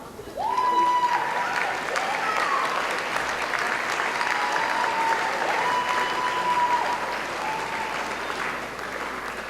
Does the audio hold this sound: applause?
yes